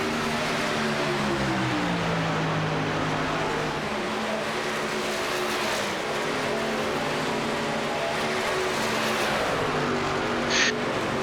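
Race trucks of the Hammer Down Truck Series roar around the track in practice, a dense, steady engine drone with shifting pitches as several vehicles run close together, loud and continuous without a break.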